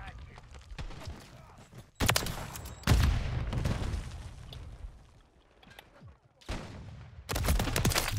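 Gunfire in Call of Duty Modern Warfare III (2023): repeated loud bursts and sharp shots with abrupt cuts, some booming impacts, and a voice talking over the action.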